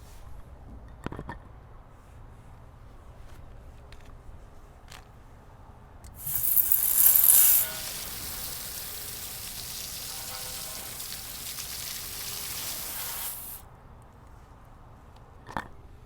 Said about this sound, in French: on va procéder au rinçage avec un jet d'eau